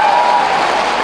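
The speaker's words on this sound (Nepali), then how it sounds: "एकपल्ट ताली बजाउनुहोस् न, खुसीको कुरा हो।" Audience applause at a Nepali political gathering, marking a new house handed over to a family: steady, dense clapping from a crowd, loud and close, filling the whole moment without a break.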